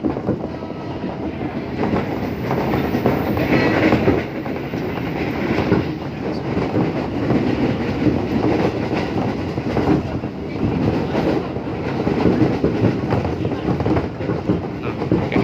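A Japanese-built JR 203 series commuter train running between Tanah Abang and BSD rattles loudly and continuously along the rails with a rough, clattering rumble, heard from close by.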